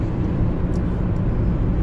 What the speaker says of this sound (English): Wow, I can hear the helicopter.